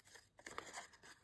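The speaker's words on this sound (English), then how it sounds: "let's cut out the middle and just sacrifice that butterfly and cut out the middle" Scissors snipping through a paper book page to cut out the middle, several quick, close, faint crisp cuts in an uneven rhythm.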